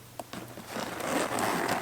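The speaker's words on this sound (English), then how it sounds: "Zipper is really smooth." A zipper on a Kipling bag runs in a smooth, continuous rasp, starting with a couple of small ticks and then pulling steadily and close for over a second.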